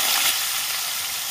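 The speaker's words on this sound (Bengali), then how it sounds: "কেটে রাখা আলুগুলো তেলে দিয়ে দিচ্ছি।" Cut potatoes tipped into hot oil already tempered with cumin and dried red chili, giving a loud, close, even sizzling hiss that holds steady and fades slightly, with no voices.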